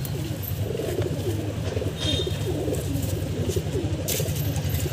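Punjabi Madrasi pigeons coo continuously and close by in a rolling, throaty chorus, with a few faint higher chirps above.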